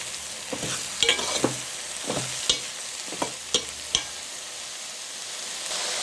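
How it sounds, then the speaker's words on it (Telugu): Ridge gourd pieces frying in a pan are stirred, with a steady sizzle under a series of sharp spatula scrapes and clinks spaced irregularly across the mix. "బీరకాయ ముక్కలు యాడ్ చేసుకొని ఒకసారి మిక్స్ చేసుకుందాం అంతా కలిసేలాగా"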